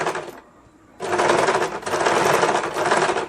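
A sewing machine stitches a pocket onto a blouse, running in a brief burst and then stopping for a short pause before a long, loud, steady whirring run.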